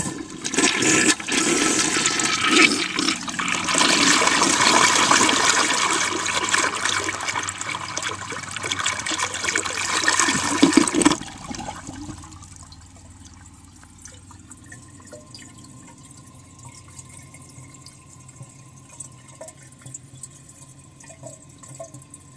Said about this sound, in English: I'm going to do a close-up flush now so that you can see the jet and the trapway.